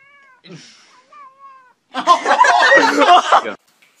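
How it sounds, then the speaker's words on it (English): A cat gives a couple of short, high meows, then lets out a longer, louder drawn-out yowl up close. "Well, hello, Mr. Kitty. Can I pet the kitty"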